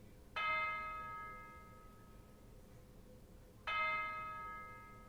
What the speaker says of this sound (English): Right here, I have a bell.